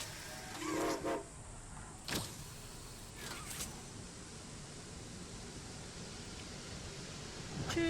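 Train whistle over a rolling toy train in Poppy Playtime, a few short whistle blasts early on, then a steady rumbling roll of wheels carrying on underneath at moderate level.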